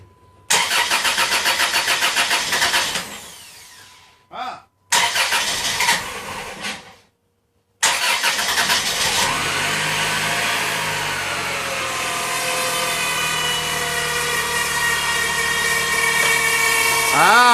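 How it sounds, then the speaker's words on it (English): A Dodge/Chrysler car engine cranks and fires in repeated start attempts, catching on the last try and settling into a steady, loud idle with a brief rev at the end, close to the microphone. "Car better start up."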